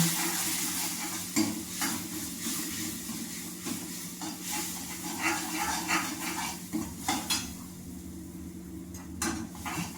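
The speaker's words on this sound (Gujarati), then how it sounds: "હાલો સરસ આપણે ઢાંકીને વઘાર કરીએ" A spice tempering (vaghar) crackles and sizzles beneath a covering lid, the hiss muffled but continuous, broken by bursts of spattering and occasional clinks of a pot, with no one speaking.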